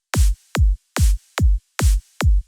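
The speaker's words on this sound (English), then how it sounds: "The snare plays with every second kick." Psytrance drum pattern programmed in MIDI: six punchy, evenly spaced kicks, with a snare landing on every second kick, loud, close and alone with no talk.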